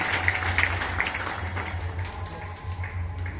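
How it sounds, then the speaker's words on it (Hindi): Crowd applause at a school Independence Day celebration: dense, steady clapping from a gathered audience, heard at moderate distance over a low background hum for the whole stretch. "एक बार जोरदार तालियां यमुना मैम और प्रिंसिपल सर के लिए।"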